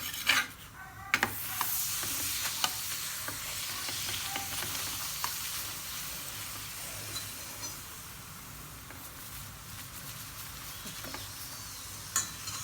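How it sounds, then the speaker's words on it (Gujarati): A multigrain paratha cooking in a little oil on a griddle: soft continuous sizzle with occasional light taps and scrapes, fairly quiet and close, no voices. "માત્ર થોડા તેલમાં સરસ પરોઠું શેકાઈ રહ્યું છે"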